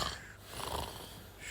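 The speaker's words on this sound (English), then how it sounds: "Why is he snoring so loud?" A man snoring, one rasping, wheezy inhalation swelling and fading over about a second, quiet and close with no talk.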